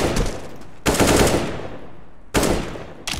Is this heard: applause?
no